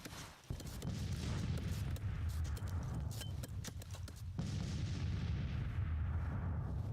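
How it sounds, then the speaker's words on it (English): Battlefield din from 12-pound Napoleon cannons in the Civil War strategy game Grand Tactician, with a sustained rumble of artillery and scattered sharp gunfire cracks, loud and continuous, plus hoof-like clatter mixed in; no talking. "the 12-pound Napoleons are firing into their flank"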